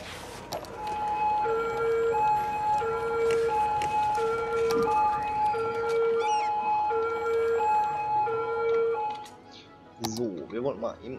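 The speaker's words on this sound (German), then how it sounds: "Achso, das sind die Krankenwagen." Ambulance sirens in the city-building game Cities: Skylines wail in a repeating two-tone high-low pattern, loud and steady for about nine seconds, with a voice briefly speaking as the siren fades.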